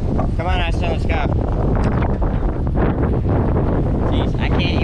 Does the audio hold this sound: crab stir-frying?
no